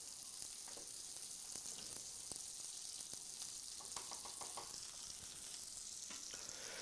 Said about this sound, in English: we're going to stir our pasta a little bit more here